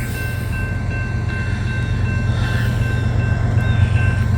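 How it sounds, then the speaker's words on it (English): Southbound train 561 from Selkirk, New York rumbles steadily past a railroad crossing, a loud continuous low drone with a steady high bell-like tone above it. "we got another train coming down the line"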